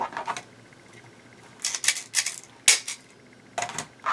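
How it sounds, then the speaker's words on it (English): A plastic zip tie is ratcheted tight around craft mesh, making bursts of quick, close clicking in a few short runs with pauses between. "We go around your mesh with the zip tie, flat side in."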